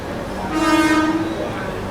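Train passing on an adjacent track near Chennai Central, a short loud horn-like tone rising over rumbling rail noise for about a second, then fading back into the running sound.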